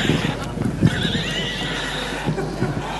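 A horse whinnies loudly and close, a long wavering neigh over a low steady hum, with a few hoof clops beneath it.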